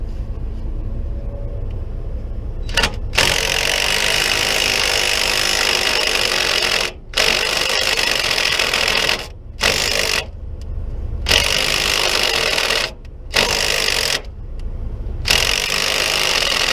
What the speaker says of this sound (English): Let me see if I can get in here with the impact gun on this nice lovely heater hose.